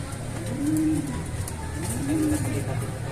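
A breeder pigeon hen coos twice in low, rolling calls about a second apart, close by, over a steady background hum with faint voices.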